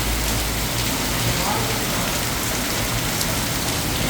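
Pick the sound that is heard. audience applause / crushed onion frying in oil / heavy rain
heavy rain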